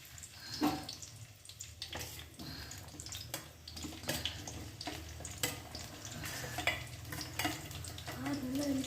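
Chopped onions go into hot oil and crackle unevenly, with sharp pops and stirring scrapes over a low frying hiss that builds toward the end; a few faint voice traces sit in the background.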